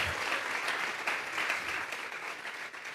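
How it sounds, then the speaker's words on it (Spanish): Church congregation clapping steadily together, a dense, even wash of handclaps filling the whole stretch at moderate distance. "Dele fuerte esas palmas al Dios de la gloria."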